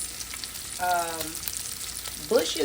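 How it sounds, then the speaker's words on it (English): Bacon bits sizzling in a pan during a second batch, a close steady crackle of frying with brief stirring scrapes. "this is the second batch of bacon bits that I'm cooking right here"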